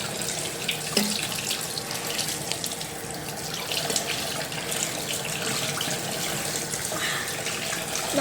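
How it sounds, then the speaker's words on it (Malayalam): Running tap water pours steadily into a sink while hands are washed, a close, continuous splashing hiss with small splatters and no speech, lasting several seconds. "അങ്ങനെ നമ്മൾ കൈ കഴുകാൻ വന്നിരിക്കുകയാണ്"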